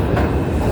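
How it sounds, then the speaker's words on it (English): A 5 express subway train in a Brooklyn tunnel heading toward Flatbush Avenue roars loudly and close, its wheels clattering steadily in a short rumbling burst. "This is a Brooklyn tunnel, Flatbush Avenue bound. 5 express train."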